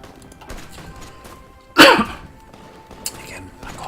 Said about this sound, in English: Again, my cough keeps on coming back.